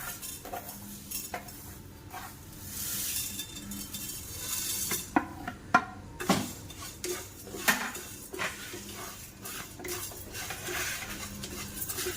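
Kashmiri chillies and spices dry-roast in a pan, stirred with a utensil that gives quiet scraping and scattered metallic clinks over a faint background sizzle.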